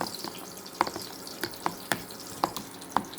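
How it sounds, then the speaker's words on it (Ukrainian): Hot oil sizzles and crackles steadily, with a few sharp pops and clinks recurring about every half second as battered eggplant slices fry in a pan. "В сковорідку вливаємо олію, вона закипіла вже і викладаємо баклажанчики."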